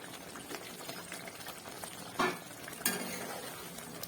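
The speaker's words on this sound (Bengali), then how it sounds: "ঝোলটা ভালো করে ফুটে গেছে" Katla fish curry gravy with coriander leaves bubbles in a pan over a gas flame, a steady soft simmering hiss broken by two brief sharper pops.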